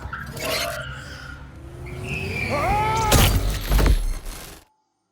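A car in Watch Dogs: Legion, driving itself on auto drive, gives a steady engine roar with a rising tire squeal, then a loud crash and shattering burst before sudden silence.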